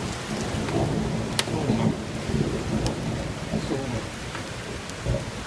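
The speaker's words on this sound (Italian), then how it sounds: "non è neve. È una grandine" Hail pounding down during a thunderstorm in Rome, a dense steady patter with scattered sharp impacts and low rumbling, while a voice speaks briefly over it.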